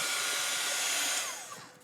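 A hair dryer blowing on a paper project gives a loud, steady, close rushing whir for under two seconds, then winds down as it is switched off, with no talking.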